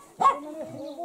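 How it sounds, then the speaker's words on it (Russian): A dog gives one short, sharp bark close by, followed by a quieter whining tone. "свою собачку-то бери"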